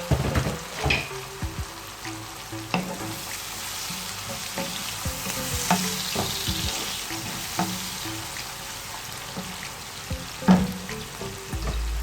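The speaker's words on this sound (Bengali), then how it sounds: "ঢাকনা দিয়ে থেকে পেঁয়াজটাকে একটু নরম করে নিচ্ছি" Chopped onion frying and softening under a lid in a pan for a mrigal fish curry with winter beans and potato: a steady close sizzle with scattered crackles, soft clicks and one sharper knock near the end, no voices.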